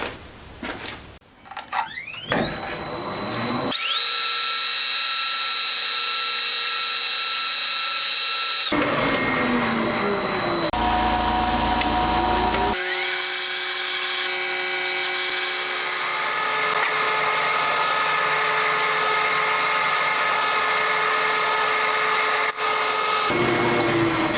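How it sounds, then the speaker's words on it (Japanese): A power drill boring holes into metal stock for a homemade DOHC cylinder head for an FIM152 engine, running loud and steady in long sustained stretches with pitch shifts between passes, no talking. "はい、まずは穴開けですね。"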